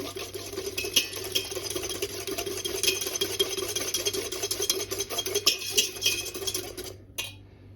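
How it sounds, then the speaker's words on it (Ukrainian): A spoon scraping and clinking in a bowl while stirring a mango and passion fruit purée mixed with citric acid, steady rhythmic rubbing strokes close by, ending with a brief pause and a final clink. "Перемішуємо"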